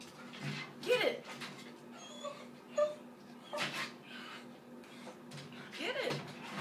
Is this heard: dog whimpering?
yes